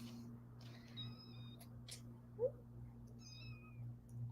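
Several short, high-pitched meows from a small cat, spaced out over a steady low hum, with a brief soft thump in the middle.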